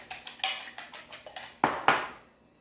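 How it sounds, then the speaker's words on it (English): Two eggs being scrambled with a utensil in a bowl for katsu, a quick rhythmic series of clinks and taps that ends in a couple of harder knocks. "Here are the 2 eggs. You just scramble it."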